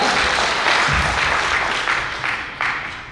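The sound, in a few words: applause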